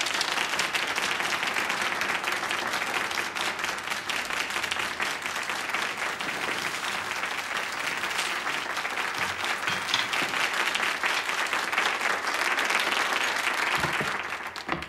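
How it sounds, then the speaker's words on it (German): Sustained, thick applause from a studio audience on a German dating show, even and close, with faint crowd murmur underneath and no speech over it. "Noch einmal einen großen Applaus für Eva."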